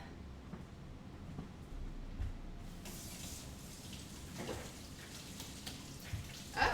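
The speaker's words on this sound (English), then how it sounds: "Spray them over the top." A soft hiss of spraying from a bottle over dough begins partway through, quiet fine mist bursts over faint background noise.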